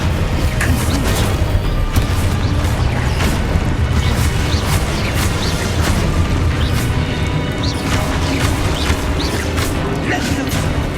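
Confringo fire-blast spell in the game Hogwarts Legacy, loud booming impacts and crackling bursts over dense continuous battle noise and music, with no speech.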